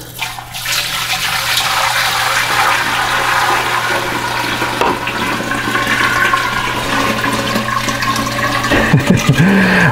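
Water pours steadily into a five-gallon pico reef bowl aquarium being filled with display water, a continuous loud splashing and rushing that runs unbroken throughout, with no talking.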